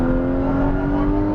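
Porsche Cayman GTS engine on a race track, a loud, steady, strongly tonal engine note held at high revs under acceleration, close and continuous, with no talk.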